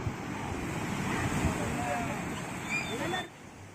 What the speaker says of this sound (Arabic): فدي الموج فيها بيبقى عالي شوية زي ما احنا ما شايفينه مع بعض